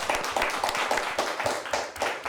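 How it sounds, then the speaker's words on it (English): An audience claps for a high school quiz team's coach in a TV studio, a fairly sparse applause with individual hand claps standing out in an uneven rhythm. "Let's give him a nice big round of applause."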